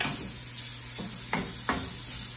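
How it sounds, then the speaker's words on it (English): Hot Italian sausage sizzles steadily as it renders in a pan, a loud constant fry hiss broken by three brief scraping stirs, heard up close without talk. "while the sausage renders in the back there"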